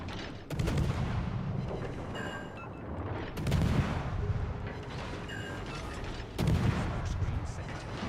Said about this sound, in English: I have to smoke up and use my guns.